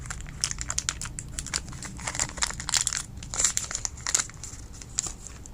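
Plastic packaging on Daiso white polymer clay is torn open and crinkled by hand, making dense, close crackling and rustling with small bursts of louder crumpling throughout.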